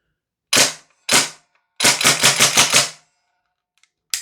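A Northeast Mini UZI gas blowback airsoft gun running on propane fires loud, close sharp cracks: two single shots, then a fast burst of about six, and one more shot at the end.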